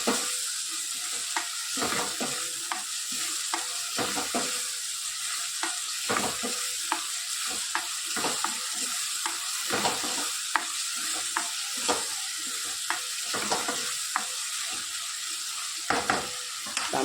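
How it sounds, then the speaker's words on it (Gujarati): Onions and tomatoes fry with spices in a pan, a constant sizzle punctuated by repeated scraping stirs every second or so, close and clear throughout. "ડુંગળી અને ટામેટાં સરસ આપણા શેકાઈ રહ્યા છે."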